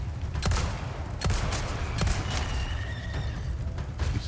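Gunfire bursts from Resident Evil 4 Remake, aimed at an explosive barrel, sound as several sharp reports over a dense low game-ambience rumble, with no clear single large blast standing out.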